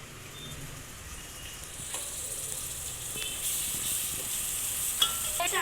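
Masala with turmeric and coriander sautéing in a pan, a steady soft sizzle with faint stirring scrapes, fairly close and continuous with no voices.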